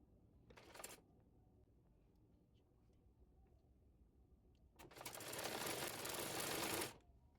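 A sewing machine stitches a kameez sleeve to the bodice, with a short whirring burst near the start, a quiet pause, then a longer, louder steady run of about two seconds.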